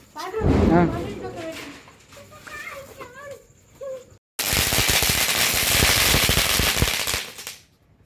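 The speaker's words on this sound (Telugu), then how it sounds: "దీన్ని చిట్పట్ అంటారు చిట్పట్ చిట్పట్ బాంబు" After voices talking, a dense, loud rattle of small chitpat firecrackers bursts continuously for a few seconds during Diwali celebrations, then fades out.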